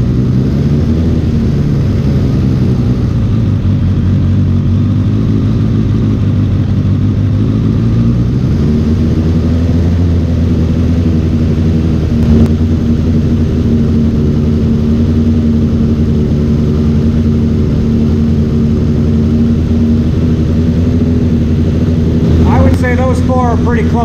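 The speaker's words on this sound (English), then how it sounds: "I'm gonna raise the idle up a bit to bring the gauges up." A motorcycle engine idles steadily during carburetor synchronizing, its pitch lifting about a third of the way through as the idle is raised, then holding a loud, even hum up close.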